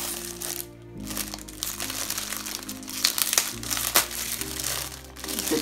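Gift wrapping paper being ripped open and crumpled up close, a continuous crinkling tear lasting several seconds under steady musical background, with little talk.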